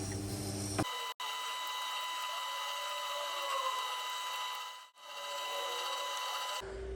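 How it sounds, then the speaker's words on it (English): A chisel is ground on the stone of a Tormek T8 sharpener, giving a steady whirring, rubbing hum that breaks off briefly twice and ends abruptly. "As long as it's touching the stone, it will be sharpening."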